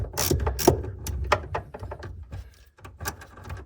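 Ratchet wrench clicking in quick irregular bursts while loosening the battery terminal nut on a Jaguar F-Type, close and fairly loud with short pauses between strokes.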